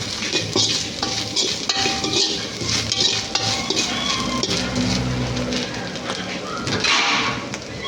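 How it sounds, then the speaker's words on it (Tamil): Grated coconut dry-roasting in a pan over a stove flame for a South Indian tuna fish curry, with a spatula scraping and clinking against the metal in a quick, steady, close rhythm. "போட்டுட்டு நல்லா ரோஸ்ட் பண்ணுவோம்"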